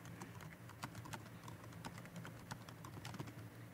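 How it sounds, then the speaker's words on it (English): Typing text on a computer keyboard, a steady run of quick, light key clicks close by, alone without talk. "And then I'm going to type in the text."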